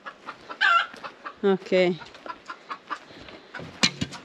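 A mother hen clucks in short, loud bursts close by near a backyard chicken coop, while a person says a brief word.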